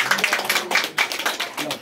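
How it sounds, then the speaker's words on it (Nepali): Scattered hand clapping from a small group at a Kirati engagement ceremony, uneven and fairly close, with bursts of claps rising and falling amid background chatter. "सबैले ताली बजाऊ"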